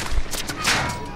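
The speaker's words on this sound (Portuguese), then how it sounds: "Como é que ele tá me dando tiro?" Bursts of gunfire from the video game Call of Duty: Modern Warfare, a quick run of sharp shots rattling close and loud over about a second.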